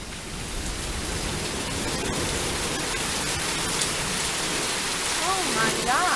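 Heavy rain pours down during a lightning storm in a steady, loud, dense roar that never lets up, with a brief voice near the end.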